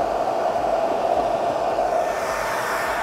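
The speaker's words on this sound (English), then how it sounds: "Now we got max space heater, max hair dryer running." A hair dryer at max setting runs alongside a 1500 watt space heater, making a constant, loud whooshing roar with a steady motor hum, unchanging and alone with no talk.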